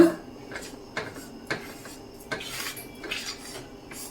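A spoon stirs burfi mixture in a pan, giving rhythmic scraping and clinking strokes against the metal at a steady pace, close and fairly clear with no talking.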